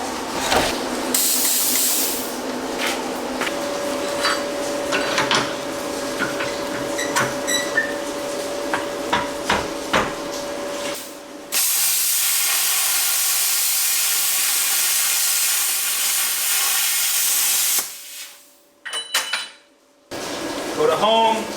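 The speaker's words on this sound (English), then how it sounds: "switch over to plasma cutting" A plasma cutter on a YesWelder MP200 multi-process welder, with a long steady hissing cut of airflow and crackle, a loud rush of air after the arc stops, and a few short hissing bursts at the end.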